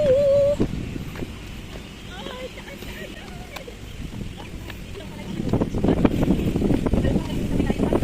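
Strong wind buffets the microphone on a hiking trail around Lion Rock, Hong Kong, in low roaring gusts that build louder toward the end, with a brief high tone at the start.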